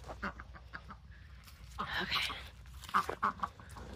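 Chickens and ducks cluck and squawk in short bursts on a farm, with brief calls in the opening second and a busier cluster of calls near the middle, set against outdoor background noise.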